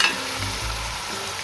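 Mutton dropped into a hot pan for a spicy Agri-style curry, a loud steady sizzle right from the start with low rumbling thuds underneath.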